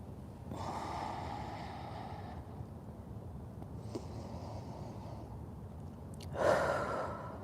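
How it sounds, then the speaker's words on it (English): Deep, slow breaths taken while kneeling in a thread-the-needle stretch during an upper-body stretching session, with a long exhale, a fainter one and a stronger breath near the end, close and quiet with no talk. "Taking a couple of breaths."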